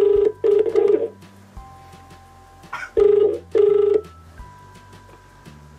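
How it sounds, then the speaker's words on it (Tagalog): A phone line rings out for a prank call: a few paired ringback tones sound against a low steady hum, with quiet gaps between them and no talk. "So, ang next namin tatawagan ay si Leslie Santos Diaz."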